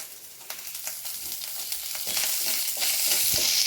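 Grated coconut and curry leaves frying in hot oil in a pan, a steady close sizzle and crackle that grows louder toward the end, with small pops throughout.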